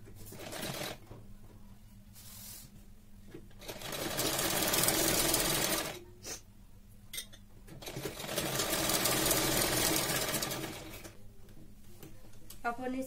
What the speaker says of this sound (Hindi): फिर इसके बाद अपन यहाँ पे ऊपर सिलाई करेंगे एक और।